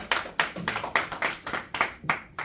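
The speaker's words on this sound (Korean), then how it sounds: "박수 치면서 시작하도록 하겠습니다" A class claps together in a steady rhythmic beat to open a mock special physical education lesson on VR, about nine even claps in a row with no one talking over them.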